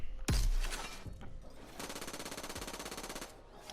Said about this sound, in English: We have a lot of different things that Bear can use, such as a minigun